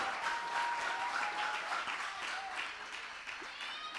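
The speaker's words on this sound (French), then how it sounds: "Tous vos applaudissements" Studio audience applauding at the final of a television presenter competition, a steady wash of clapping for about four seconds with a faint tone running underneath.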